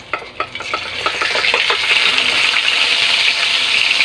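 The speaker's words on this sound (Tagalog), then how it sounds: "dito may nakasalang ng kawali at kasama ng mantika. Pwede na nating ilagay ang ating isda." Tilapia fish frying in oil in a pan: a few light clinks, then a loud, steady sizzle that swells and holds close up, with no speech.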